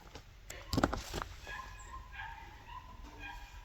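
A puppy barks and whimpers outdoors in a few short, high-pitched bursts at moderate distance, followed by quieter yips over steady background noise.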